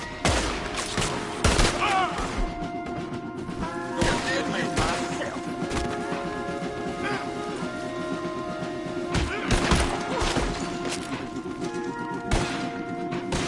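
Gunfire in the video game Red Dead Redemption 2, a loud, dense fusillade of overlapping shots and cracks with heavier booms, continuing throughout amid game noise and shouting.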